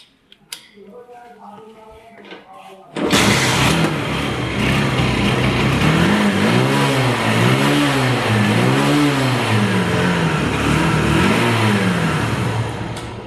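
A TVS Star Sport motorcycle in very good condition starts up and idles loudly and close, its engine revving in several rising and falling surges over a steady running drone, after a few seconds of quiet talking.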